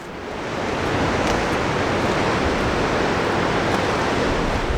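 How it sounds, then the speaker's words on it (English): Ocean waves breaking on the rocky Oregon coast near Thor's Well, a loud, continuous roar of surf with wind noise and no voices. "the waves are breaking"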